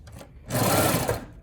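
A sewing machine stitches a hoodie seam near the shoulder in a short burst, a quick dense whirring run of stitches that swells and stops after about a second, with no talking.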